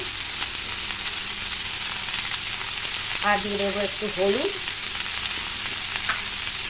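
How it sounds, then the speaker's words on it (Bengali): Steady oil sizzle runs throughout as cauliflower and potato fry in a pan, with someone speaking briefly partway through. "ফুলকপি আলু অনেকটাই ভাজা হচ্ছে"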